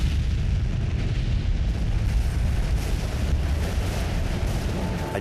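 Eruption of Mount Vesuvius: a dense, continuous roaring rumble with no breaks, loud and steady throughout.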